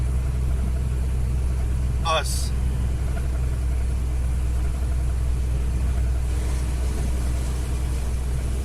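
A truck carrying about 1.5 tons of bricks climbs Ilgaz mountain while its retarder brakes, a loud, constant low engine rumble and drone heard from inside the cab, with a brief spoken word over it.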